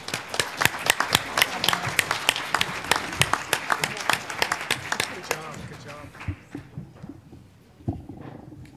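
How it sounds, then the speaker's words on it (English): A forum audience at the Victoria Inn applauds its panelists with lively clapping. Sharp individual claps ring out across the room for about six seconds, then thin to a few scattered claps and stop. "join me in giving a round of applause to our panelists today"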